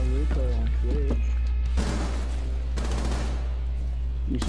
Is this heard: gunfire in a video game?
yes